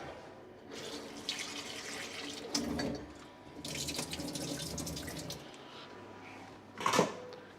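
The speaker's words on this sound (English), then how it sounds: "Give your gooseberries a little wash." Gooseberries washed under a running kitchen tap, water splashing and gushing in uneven bursts as the fruit is rinsed, with a louder final splash and faint handling noises.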